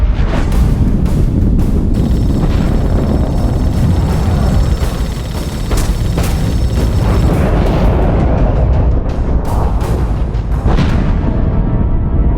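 Torpedo explosions in the space game The Expanse: A Telltale Series: loud, booming blasts and bursts that follow one another across a sustained, roaring combat scene.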